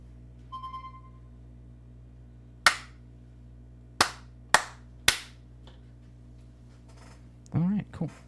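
Four sharp hand claps ring out alone, spaced unevenly with short decays, after a brief electronic tone at the start and a short voice near the end.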